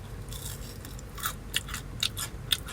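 Crispy grilled food being bitten and chewed, a few sharp crunches spaced about half a second apart over low background hum, close and fairly quiet.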